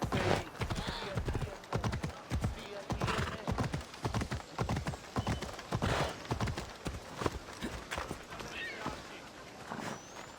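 Steady clip-clop of horse hooves in an ancient Greek setting within a video game, a rhythmic trot of evenly spaced hoofbeats close by, with faint talk and ambient sound underneath.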